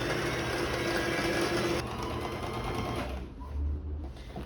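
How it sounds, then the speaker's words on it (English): A sewing machine runs a top stitch along a seam on a pair of pants, a loud continuous whirring buzz that shifts pitch partway through and eases off near the end. "I will do only one top stitch, and then I will see if it fits, and then I'll do the second top stitch"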